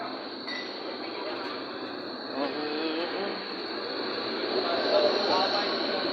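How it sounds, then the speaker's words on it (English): A tram rumbles past on a Berlin street at night with a steady broad hum and faint rail noise, swelling slightly toward the end; a few voices are faintly audible. "A tram, they have a lot of trams"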